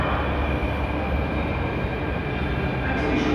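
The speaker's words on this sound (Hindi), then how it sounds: "मेट्रो आ गई है, अभी मेट्रो का चलते हैं।" Steady, loud rumbling of a Delhi metro train arriving at a platform, a continuous low roar with a faint high whine, no voices.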